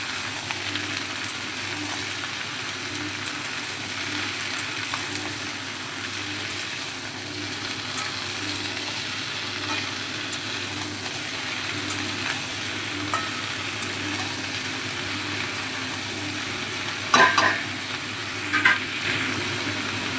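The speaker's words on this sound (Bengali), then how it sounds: "ফোড়নের সঙ্গে চাল কুমড়োটা ভালো করে নেড়ে চেড়ে মিশিয়ে নিচ্ছি।" Chopped ash gourd fries in oil with tempering spices, giving a constant even hiss throughout. A couple of brief clicks of the stirring utensil come near the end.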